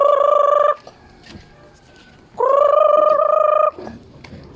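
Two long, loud, steady harmonic calls from a bird, separated by a quieter pause with faint background noise; a short call starts again at the end.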